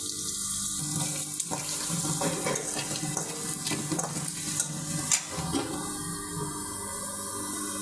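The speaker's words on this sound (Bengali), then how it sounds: "এরপর যা দিয়ে দিলাম একটু পানি" Water runs and splashes into a pan of browning curry spices with dried fish, potato and eggplant, a steady close pour with faint sizzling underneath.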